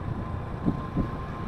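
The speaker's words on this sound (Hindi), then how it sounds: "अच्छी खासी हवा चल रही है" Strong wind blows beside the Jhelum river as a steady roaring rush buffeting the microphone, with a couple of brief gusts and no voices.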